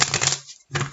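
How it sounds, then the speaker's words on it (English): A quick riffle of tarot cards being shuffled, a crisp papery flutter that stops briefly and then starts again, close and fairly loud. "Okay, one last shuffle."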